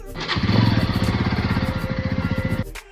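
A motorcycle engine starts and runs close by for a few seconds, a loud, rapid, pulsing putter that cuts off abruptly.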